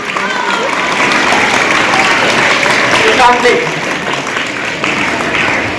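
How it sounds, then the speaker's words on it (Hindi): An audience at a gathering applauds to welcome a guest, a loud, dense clapping that holds steady for several seconds with some crowd noise mixed in. "एक बार पुरजोर तालियों से हमारे मेहमान हजरत हुसैन का इस्तकबाल किया जाए"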